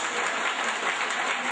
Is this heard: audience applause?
yes